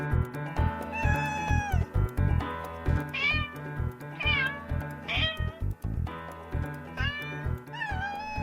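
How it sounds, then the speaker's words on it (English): Outdoor cats, about ten of them, meow repeatedly and close by, with overlapping rising and falling cries. A steady rhythmic thumping beat runs underneath. "those are my outside cats, all 10 of them"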